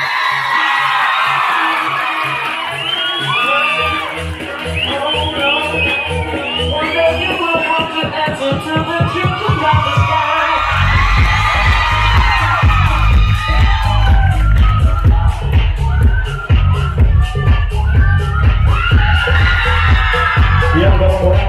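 Loud audience cheering with whoops and yells at a Black beauty pageant at a school, the crowd noise swelling over a steady low music beat and continuing throughout.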